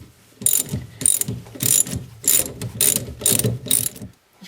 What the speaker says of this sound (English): Got the last stud broke loose, and I can put the socket on it and take it out.